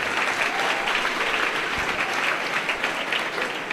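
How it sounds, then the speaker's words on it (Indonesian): A large audience at an Islamic religious talk breaks into steady applause, a dense, continuous wash of clapping that holds for several seconds with no speech over it. "Tepuk tangan."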